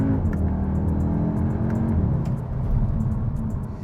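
A 2021 Audi SQ2 engine revs hard and accelerates, its note climbing steadily with quick dual-clutch upshifts breaking the pull, loud and close with no talk over it.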